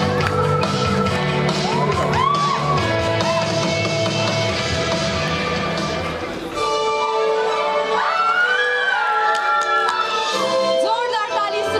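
An audience at an award ceremony cheers, whoops and claps loudly in a dense continuous roar, with a few higher shouts rising over the crowd noise near the end.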